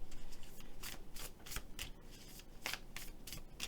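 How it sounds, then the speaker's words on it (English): Tarot cards riffle-shuffled by hand in a rapid run of crisp, rhythmic flutters, close and clear with no talk. "I'm going to shuffle them just a few more times"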